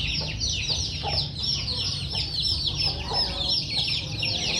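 Many white chickens and chicks cluck and chatter together nearby, a dense, continuous flock noise with shrill peeps layered over a low background hum.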